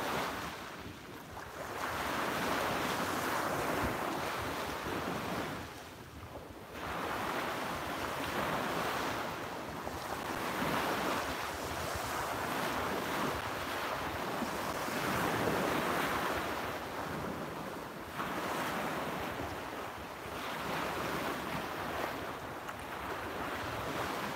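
Ocean waves break on a beach in long, rolling surges that swell and recede every few seconds, with wind buffeting the microphone throughout.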